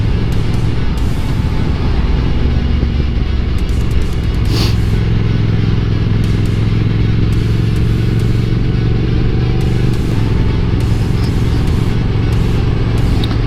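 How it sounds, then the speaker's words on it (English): A Triumph Speed Twin motorcycle being ridden, with steady dense engine and road noise held at a constant level, wind rush throughout and no voices. "Out on the trusty Speed Twin here, my favorite fun bike to ride."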